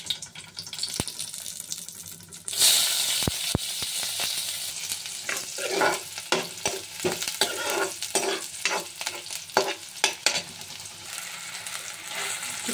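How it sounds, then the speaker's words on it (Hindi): Red chillies and onion sizzle in a hot pan with oil while a spatula scrapes and stirs in steady, close strokes; a sharp burst of frying noise jumps up partway through as ingredients hit the pan, with no talking. "अब यहाँ मिर्ची अच्छे से लाल हो जाए, इसके बाद डालूंगी प्याज और साथ में अच्छे से मिक्स कर दूंगी"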